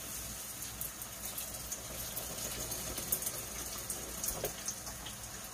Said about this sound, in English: I'm going to get this water off of it.